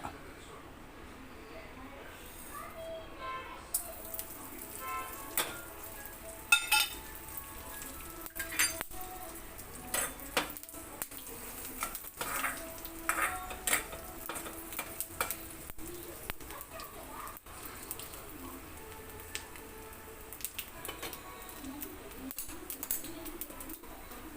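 Dried red chilli, mustard seeds, cumin and fenugreek fry in oil for a tempering, a steady low sizzle with scattered crackles and repeated clinks of utensils against the pan, with someone speaking intermittently over it.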